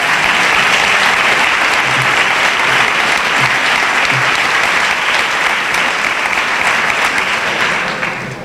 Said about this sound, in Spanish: Darle un aplauso fuerte, que viene muy elegante